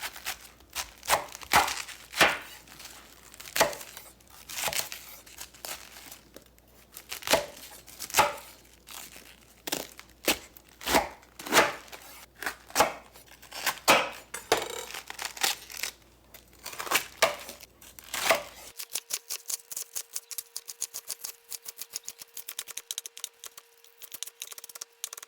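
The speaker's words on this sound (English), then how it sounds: "I'll cut it in half and then remove the stem and then chop it up." A knife chops cabbage for sauerkraut on a board in quick, irregular strokes, each a sharp crisp crunch close by, continuing for most of the clip before the chopping stops and only a faint tone remains.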